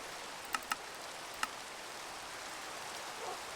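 Steady fine hiss of rain falling in the Minecraft video game, soft and continuous, broken by a few faint sharp ticks.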